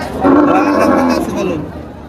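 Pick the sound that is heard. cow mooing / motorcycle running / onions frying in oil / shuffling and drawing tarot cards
cow mooing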